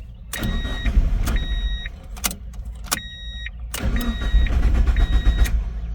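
An NB Mazda Miata engine cranks repeatedly in several bursts with a whirring starter, each attempt failing to catch, interrupted by brief pauses and chime tones.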